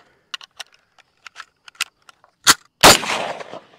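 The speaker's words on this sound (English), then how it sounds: "did you really think I was going to shoot the M1 and not give you a ping?" An M1 rifle in .30-06 fired at a cheap $30 Temu body armor panel: a series of small clicks and taps, one sharp crack, then a loud, close blast with a ringing, decaying tail.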